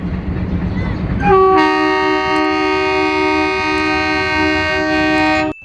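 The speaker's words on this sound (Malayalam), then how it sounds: "മുകളിൽ കൂടി ട്രെയിൻ പോകുന്നത് കാണാൻ നല്ല രസം." A loud train horn blasts steadily for several seconds over a rumbling train passing overhead on a bridge above a river, starting abruptly after a low rushing background and cutting off near the end.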